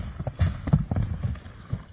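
Horse hooves clip-clop in a steady, uneven rhythm on its first ride, fairly close and moderately loud, with a few heavy thuds and no clear talking.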